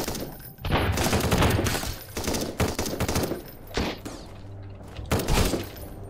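Rapid bursts of automatic gunfire in the survival game Sunkenland, fired from an unscoped gun, with loud rattling volleys separated by brief pauses.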